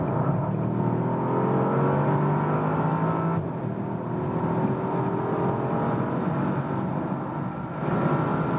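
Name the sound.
Bentley Continental GT V8 accelerating in sports mode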